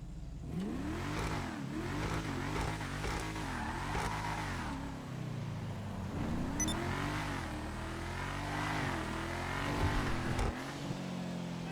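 Enus Paragon S sports car in GTA Online, its engine revving in repeated rising and falling sweeps with brief tire squeal, loud and close with no talking.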